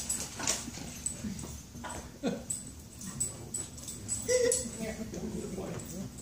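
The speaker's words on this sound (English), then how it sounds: "Dog fight." Dogs scuffle indoors during a Bible study gathering, with yips, whimpers and wheezy growls rising in brief bursts over steady room noise, while people talk nearby.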